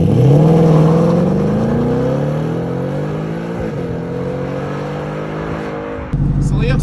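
Car launching with Dragy timing and a ported intake manifold, engine loud and close as its pitch rises steadily through one long pull, then easing off before an abrupt shift in sound near the end.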